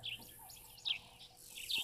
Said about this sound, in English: Woodlands kingfisher also calling at the moment.